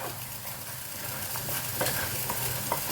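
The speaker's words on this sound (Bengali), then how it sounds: "কিমাটাকে খুব ভালো করে ধুয়ে নিয়েছি। খুব ভালো করে কষিয়ে নিলাম।" Minced meat frying in a pan after washing, a steady low sizzle with occasional soft stirring scrapes, close and moderately quiet, with no talking.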